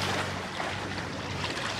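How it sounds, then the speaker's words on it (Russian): A sailboat motors at sea on its engine alone in light wind, giving a steady, broad rush of water and hull noise with wind buffeting, constant and fairly close throughout, with no talking. "сейчас мы идем, ветра мало, идем на одном моторе"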